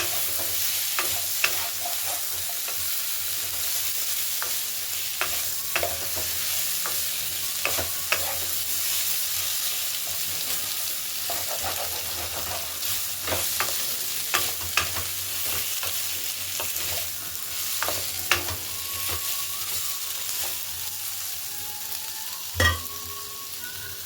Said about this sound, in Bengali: ভালো করে মিশিয়ে নিতে হবে ভালো করে মিশিয়ে মিশিয়ে করতে হবে